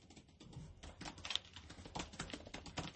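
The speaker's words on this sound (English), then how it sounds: "You can hear me typing." Rapid, uneven keyboard typing close by, a steady patter of key clicks with no voices.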